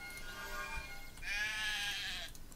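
Sheep bleating in the video game Craft the World, a single drawn-out wavering bleat rising clearly above a low game background hum, loud and close.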